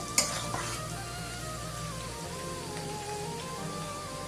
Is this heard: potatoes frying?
yes